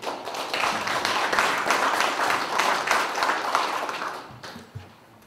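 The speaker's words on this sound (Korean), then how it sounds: "우리가 큰 박수를 한번 먼저 보내죠" Dense audience applause at an academic commemorative gathering fills the hall, steady and loud for about four seconds before thinning out and fading to a few scattered claps.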